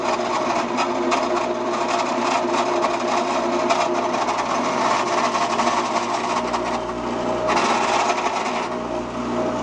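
A continuous high-pitched mechanical whir of a drill press boring a four-inch-deep hole into wood for a mason bee house, steady and close for the whole stretch.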